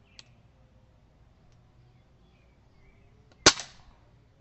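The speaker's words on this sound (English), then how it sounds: "we're going to finish him off with a headshot" A single sharp rifle shot fired at a target through a One leaf NV500 night-vision scope, a crisp crack with a short tail after a long quiet stretch and one faint earlier click.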